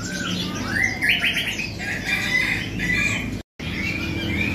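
Red-whiskered bulbuls chirp and whistle repeatedly in bright, rising and warbling calls, fairly close, against steady background noise and a brief dropout near the end, with no voices.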